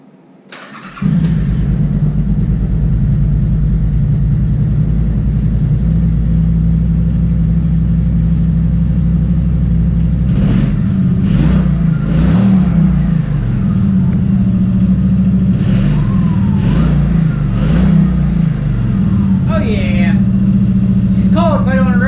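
A Yamaha Wolverine X4/X2 utility vehicle's engine cranks and starts after a throttle cable replacement, then settles into a loud, steady idle close by, with several quick revs in the latter half.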